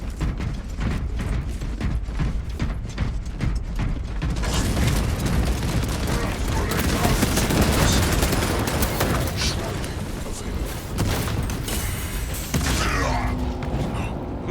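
Sniper rifle fire and mechanical weapon clatter in the video game Space Marine 2, a dense, loud wash of shots and metallic creaks running throughout, with voices talking over it.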